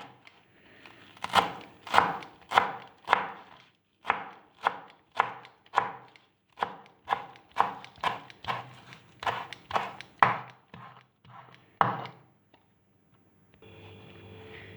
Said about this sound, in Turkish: Diğer yandan maydanozunu doğrayacağım.